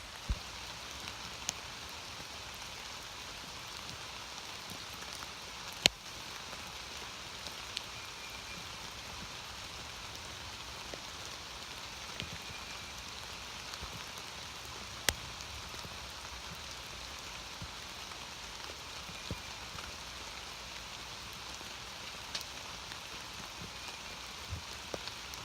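Rain falls steadily on a wooded hiking trail during a stretch of heavy, flooding weather, making a faint, even hiss with scattered soft drip ticks and no voices.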